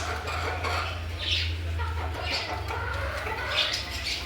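A broody hen clucks softly in a yard with an empty cage nearby, her low, repeated calls faint against a steady background hum.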